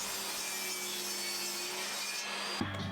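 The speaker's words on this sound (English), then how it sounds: "So first I trimmed off a couple of millimeters from each of the straight edges of the inside part of the template at the table saw." Table saw trimming the straight edges of a wooden template, a steady loud whine of the blade cutting wood that holds evenly, then drops off with a brief knock near the end.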